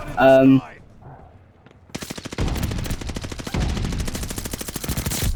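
Gunfire in a video game, a gold bazooka shown, bursts into rapid, loud automatic rattling after a short vocal sound and a pause, firing continuously to the end.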